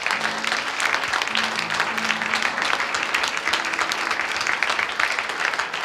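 A church congregation applauds in a thick, sustained wash of clapping, with a faint voice briefly audible beneath the steady noise.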